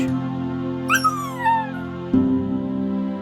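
A recovering dog in a children's bedtime story whimpers, letting out a couple of thin, falling whines that rise over soft sustained background music, then the music carries on alone.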